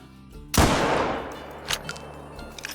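A single loud rifle shot rings out during a hunt in theHunter: Call of the Wild, a sharp crack followed by a long rolling echo that fades across open ground, with faint clicks afterward.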